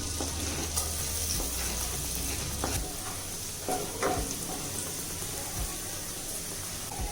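Minced garlic and chilli frying in butter in a hot pan, a steady close sizzle with stirring scrapes and occasional clinks, no talk.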